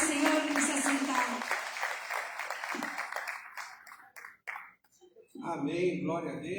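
A church congregation at a Sunday evening service applauds, a dense wash of clapping that thins and tapers off to near silence before a voice resumes speaking.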